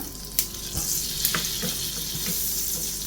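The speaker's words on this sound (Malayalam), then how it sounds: "ഇതിലേക്ക് നമുക്ക് അരിഞ്ഞു വെച്ചിരിക്കുന്ന വെളുത്തുള്ളിയും പച്ചമുളകും കൂടെ ചേർത്ത് കൊടുക്കാം" Chopped garlic and green chillies frying in butter in a pan, a loud close steady sizzle with a few sharp stirring clicks and scrapes.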